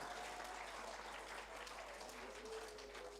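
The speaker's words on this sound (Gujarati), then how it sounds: "તો પહેલાં તો એ ટીમ વર્ક માટે એમના માટે જોરદાર તાળી થઈ જાય" A school audience at a fun and food fair claps for a team, a faint, dense, steady wash of applause heard from a distance, with a voice briefly audible over it.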